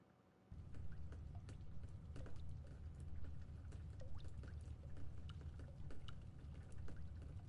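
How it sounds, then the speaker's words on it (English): Running water in a video game: a steady rushing wash that starts abruptly after half a second and continues throughout, moderately loud, with scattered small clicks layered over it. "No, there's really water back there."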